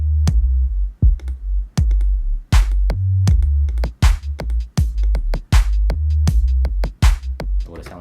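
A hip-hop beat with drums added, from a beat breakdown: heavy kick and sharp snare hits land in a steady loop over a deep bass line, loud and upfront with no voices.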